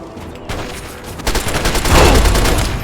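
Sustained gunfire in the video game Fallout 3 during a battle in the Pitt, a dense, loud burst of rapid shots building toward the end.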